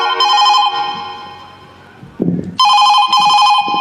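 A telephone rings after a number is dialed, giving two loud, sharp electronic ring bursts with a short pause and a dull thud between them.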